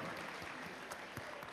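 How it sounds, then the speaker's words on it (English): A brief, faint burst of scattered clapping from a BlizzCon convention audience, heard from some distance. "Let's give them a big round of applause."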